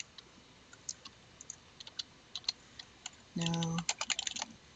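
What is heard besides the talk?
typing on a computer keyboard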